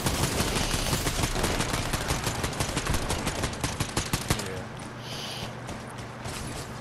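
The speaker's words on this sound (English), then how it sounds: "There's two teams only shooting at me." Enemy teams fire on the player in Fortnite: rapid, loud bursts of gunfire crackle continuously, thinning into scattered shots near the end, with game sounds underneath.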